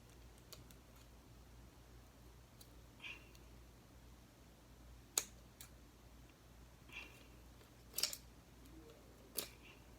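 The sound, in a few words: scissors cutting tags off fidget toys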